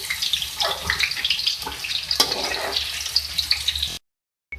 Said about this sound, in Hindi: भिंडी हमारी जो है फ्राई हो चुकी है